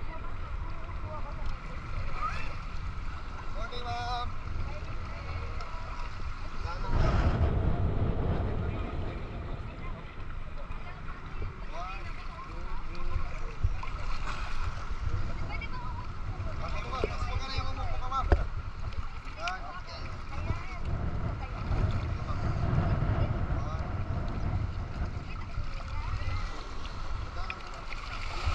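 A small bangka boat on the sea near Apo Island, with wind buffeting the microphone, splashing water and a steady low rumble across about half a minute, under occasional talk.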